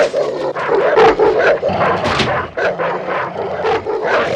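A dog attacks a man in a TV crime drama scene, barking, yipping and snarling loudly and close up while he shouts and struggles beneath it.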